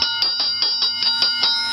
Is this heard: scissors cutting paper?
no